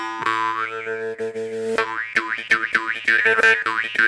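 An Afghan-pattern morchang jaw harp twangs close and loud with a steady droning buzz, its wah-like overtone melody sweeping up and down in quick, aggressive plucked bursts.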